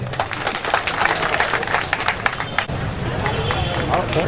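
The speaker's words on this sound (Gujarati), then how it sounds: "વ્યવસ્થિત તાળીઓથી એમનું સ્વાગત કરીશું." Audience applause welcoming guests at a BJP minority wing Eid Milan gathering in Vadodara, a steady dense patter of clapping mixed with crowd babble and a voice talking over it.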